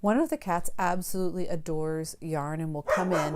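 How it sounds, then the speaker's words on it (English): A dog barks faintly in the background, partly masked by someone talking close to the microphone throughout. "There's a dog barking."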